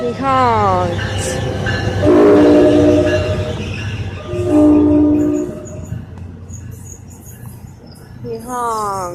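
A passing train at Raritan sounds its horn in several loud sustained blasts, with rumbling rail noise underneath and a final blast near the end.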